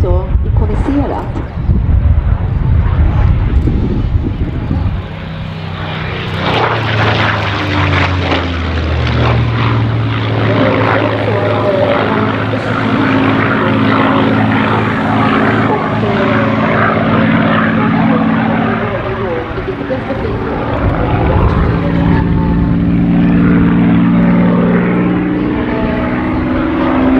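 A North American P-51D Mustang and a Vickers Supermarine Spitfire Mk XVI run their piston engines, a loud, steady propeller drone that shifts in pitch as the aircraft pass close, with wind buffeting and some voices faintly underneath.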